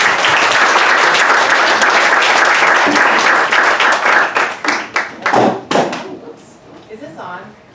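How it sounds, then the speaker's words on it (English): Audience applause at an evening bookstore author event, a loud sustained clapping crowd that thins into scattered claps and fades, with voices rising underneath near the end. "please give a round of applause to Hawa and Elisa."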